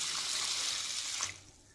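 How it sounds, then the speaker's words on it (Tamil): Rinse water is poured off washed rice while sweet pongal is being made, a steady splashing pour that stops abruptly about a second in, leaving near silence. "அரிசியை நல்லா கழுவி கீழே ஊற்றிடுவோம் தண்ணியை"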